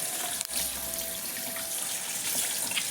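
Water runs steadily from a kitchen tap into a sink during washing, a continuous close splashing stream with one brief knock near the start.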